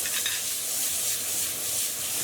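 Prawns with crushed garlic frying in hot oil, a steady, dense hiss of sizzling that holds evenly throughout with no gaps, close and fairly loud, no voices.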